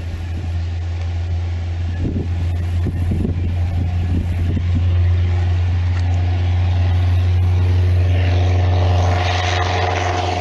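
Low-powered propeller airplane engine in a flight demonstration, a loud steady drone holding one pitch throughout, with faint rattling bursts early on and no speech.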